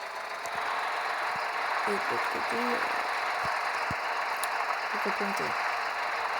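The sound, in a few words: tractor engine in video game Farming Simulator 2014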